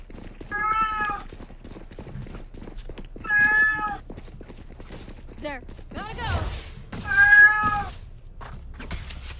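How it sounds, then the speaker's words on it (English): A cat meows loudly and repeatedly in the background of a live Valorant esports tournament broadcast, four drawn-out calls spaced a few seconds apart, mixed with clicks, thuds and game sounds. "as we hear the cat on the background. Very loud."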